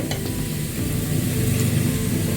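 Garlic frying in hot oil in a pan while preparing Katla fish curry, a steady close sizzle that stays even throughout with no one talking.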